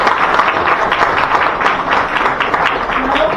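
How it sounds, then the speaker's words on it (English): Audience in a college moot court hall applauds the arrival of Justice Milind Jadhav at a national moot court competition, steady full clapping throughout with some crowd voices mixed in. "Please give him a great applause."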